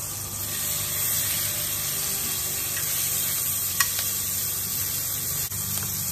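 Beef and mushrooms fry in butter in a hot pan, giving a loud, continuous sizzle with occasional clinks of stirring and no voices.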